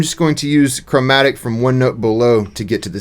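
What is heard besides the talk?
No everyday noise stands out behind the speech.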